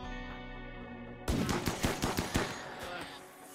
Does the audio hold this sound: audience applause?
no